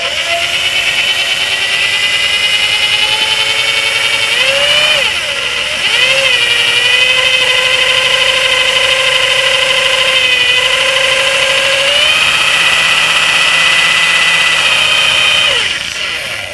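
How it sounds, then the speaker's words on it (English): A power drill whirs steadily and loudly while stirring and degassing homemade red wine, its pitch dipping briefly around the middle as it slows and changes direction, then running on before cutting off. "Reverse the drill."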